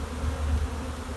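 Honeybees hum around hive frames during a colony split, a steady close buzz with no voices.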